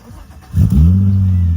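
A Honda Legend car engine cranks briefly and catches, then settles into a steady, loud, close idle rumble that holds to the end.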